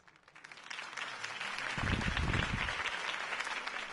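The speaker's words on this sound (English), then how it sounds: "If only Mr. Wayne, my campaign's largest backer, could have heard that applause" Crowd applause in a video game follows a campaign speech by Harvey Dent, starting faint and swelling into loud, sustained clapping and cheering that holds steady to the end.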